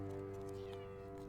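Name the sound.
cat meowing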